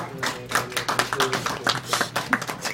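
Live audience clapping at a speedrun gaming event, a sustained, fairly close patter of many hands with voices mixed in.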